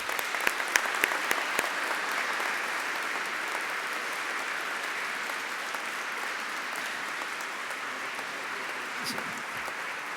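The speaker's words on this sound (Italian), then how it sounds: "Meritano un applauso." Sustained applause from a congregation fills a cathedral after the Easter Mass choir sings, dense and steady clapping with a few sharper claps near the start, continuing for the full stretch.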